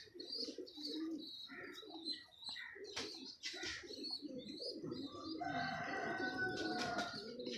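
Pigeons for sale cooing in a loft, soft repeated coos mixed with chirps and a brief flutter of wings, fairly faint and steady throughout.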